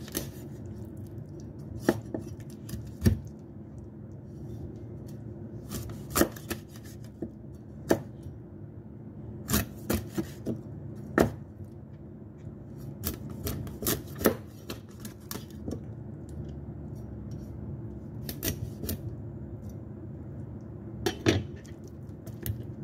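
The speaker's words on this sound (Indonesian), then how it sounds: "Lalu ini ikannya kita potong-potong, tapi jangan sampai putus ya teman-teman." A knife chops through fish on a board, scoring the pieces without cutting all the way through, giving irregular sharp knocks and bursts of clustered strikes over a low steady background, with no talking.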